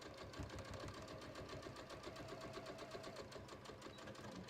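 A sewing machine runs steadily, stitching over a back-tack on a patio cushion cover, giving a continuous quiet rapid mechanical whir with no talking.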